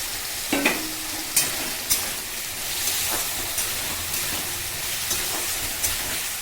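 Stirring a vegetarian potato, pointed gourd and paneer curry in a pan, with soft sizzling and scraping under a few sharp utensil clinks against the pan, close and moderately loud, no talking.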